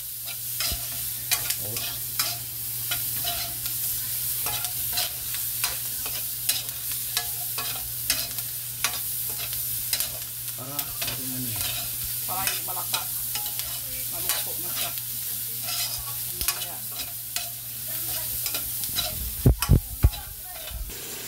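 Continuous sizzling of boiled goat meat frying in a pan, with scattered clinks and scrapes of stirring; a louder clatter near the end.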